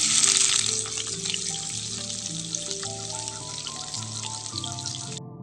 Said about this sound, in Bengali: তেল গরম হয়ে যাওয়ার পর দিব পেঁয়াজ কুচি